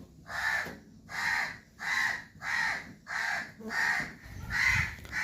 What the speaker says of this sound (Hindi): और सुबह सुबह चिड़ियों की चहचहाहट और कौवे की काएं काएं दोनों चल रही हैं।